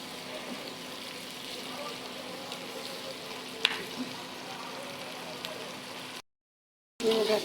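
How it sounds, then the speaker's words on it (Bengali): Cumin, garlic and ginger paste fries with goat brain in a pan, a steady soft sizzle running for about six seconds, a brief utensil scrape midway, then a short gap before the frying resumes. "সব মশলা দিয়ে এবার আমি ভালো করে কষাই নেব।"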